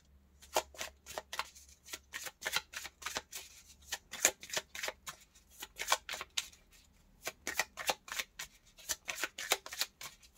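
Oracle cards are shuffled close up in repeated quick riffling bursts with short pauses between them, soft but crisp, with no talking.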